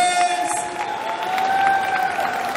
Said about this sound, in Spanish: ¡Fuerte el aplauso bonito para las mujeres!